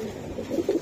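A male Giribaz pigeon coos in a few soft rising throaty phrases, close and fairly quiet, with no talk over it.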